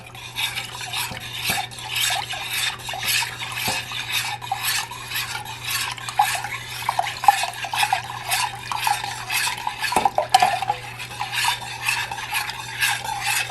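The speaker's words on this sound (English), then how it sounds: "I'm going to stir in the probiotic mixture." Rhythmic scraping of a spoon stirring probiotic mixture into milk in a metal pot, repeated strokes at a steady pace over a low background hum.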